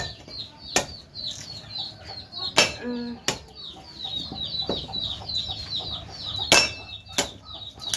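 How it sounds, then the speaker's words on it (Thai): Chickens cluck and squawk intermittently at close range, with sharp bursts and flapping over a noisy outdoor background. "เสียงไก่"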